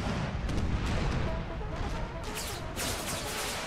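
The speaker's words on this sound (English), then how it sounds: "Love how the artillery is actually firing over here" Artillery barrage in Empire: Total War with the American Civil War mod, a dense, continuous rumble of cannon fire with overlapping booms, steady and fairly loud throughout.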